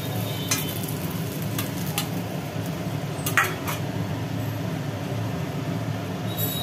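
Bhola fish frying in oil gives a continuous close sizzle, broken by a few sharp spits and clatters as the pieces are stirred or lifted out. Nobody speaks.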